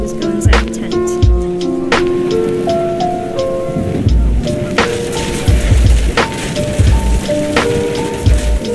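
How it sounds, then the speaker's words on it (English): Heavy rain in a video game, a dense wash of falling water joined by low rumbling thunder-like thumps and scattered sharp hits, up close and loud over bright musical tones. "Rain came down in buckets then,"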